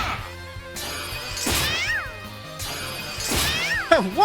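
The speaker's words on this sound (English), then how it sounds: "Oh, don't punch my cat!" A cartoonish cat meows several times in the Disgaea 4 video game, rising and falling cries over busy battle effects and thwacks, with a final higher meow at the end.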